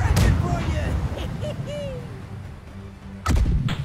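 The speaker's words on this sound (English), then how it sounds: "Friendly, otherwise left side cannons fire." Ship cannons on the left side fire in the naval game Blackwake, with heavy booming blasts at the start and another near the end amid battle noise.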